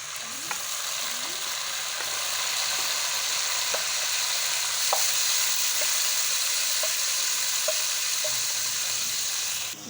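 Ginger garlic paste sizzling in a karahi with garam masala for white mutton karahi, a steady loud frying hiss running throughout, broken by sharp ticks and scrapes of a spoon stirring the pan.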